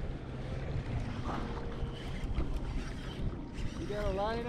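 A boat's engine rumbles steadily nearby as it approaches a fishing kayak, under wind and water noise, with someone speaking briefly over it.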